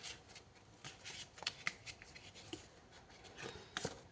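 A small oracle deck with a great many cards shuffled by hand close up, soft papery riffles and rubs with a few crisp snaps of card edges, fairly quiet and continuous.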